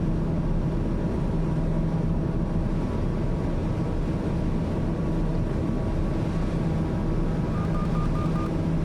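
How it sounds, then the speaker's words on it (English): A TBM 850 turboprop airplane in Microsoft Flight Simulator drones loudly and constantly, a low steady engine hum with faint tonal whine running through it. "Man, this airplane is just noisy today, isn't it?"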